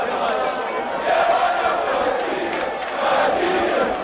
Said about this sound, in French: Une attente marquée par des puissants chants de ralliement.